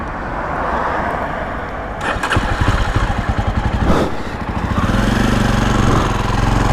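A Jawa Perak motorcycle engine cranks in a rapid pulsing burst, then settles into a steady, loud rumble as it tries to start, with no talk over it.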